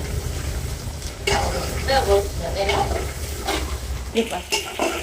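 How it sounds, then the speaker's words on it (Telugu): Bitter gourd frying in a hot pan while being stirred, giving a continuous loud sizzle and hiss with occasional scrapes of the spoon, close and steady throughout. "ఇట్లా బాగా వేగాలి, మంచిగా సిమ్లో వేగాలి"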